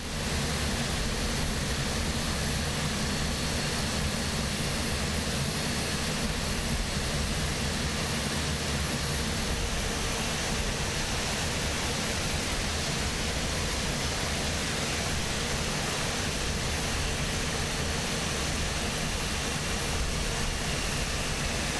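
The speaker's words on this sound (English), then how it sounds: "We're taxiing along here." Inibuilds A400M turboprop taxiing in Microsoft Flight Simulator 2024, a constant loud broadband engine roar and whine that holds steady throughout with no pauses and no talking.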